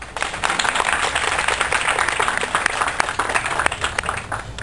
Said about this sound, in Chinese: 掌声欢迎他们。